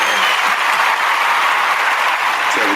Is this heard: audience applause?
yes